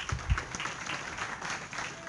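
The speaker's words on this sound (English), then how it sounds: "let's give him a round of applause" Applause from a lecture-hall audience of engineering students welcoming a speaker, a dense patter of clapping at moderate level with a few heavier low thumps near the start.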